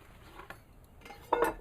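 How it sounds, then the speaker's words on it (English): Pieces of a stainless steel camping cook set for a Kelly Kettle stove being handled: faint soft knocks, then a brief, bright metallic clink near the end, close to the microphone. "when you order the cook set, this is what you get: stainless steel cook set"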